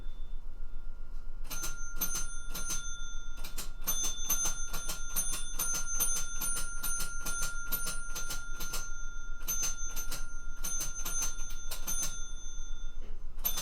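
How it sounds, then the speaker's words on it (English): A bell inside an old pinball-style game machine rings in rapid repeated metallic dings, bursts clustered in a steady mechanical rhythm with brief gaps, close and fairly loud over a low machine hum. "there's a bell in front of here."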